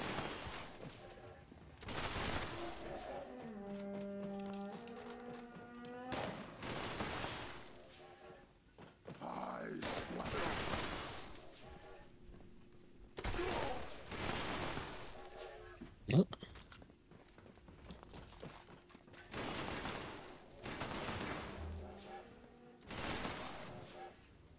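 Bursts of gunfire ring out in Fallout 76 on PC, clusters of sharp, hard-kicking shots separated by short gaps, with a player talking at moments between volleys.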